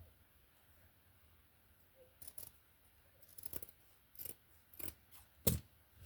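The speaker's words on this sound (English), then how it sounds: "We're going to cut this one in half, like so." Scissors cut a piece of ribbon for a hair bow, making several crisp, faint snips close by in a quiet room, with short pauses between cuts.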